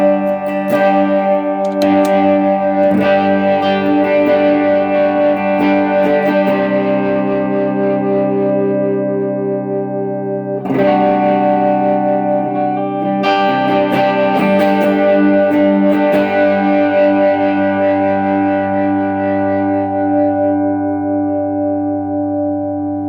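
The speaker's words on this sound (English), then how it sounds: "Next, I have the compressor." An electric guitar runs through a compressor pedal on a pedalboard, playing ringing chords and sustained notes. The sound is loud, smooth and evenly leveled, with fresh strums near 11 and 13 seconds and no talking.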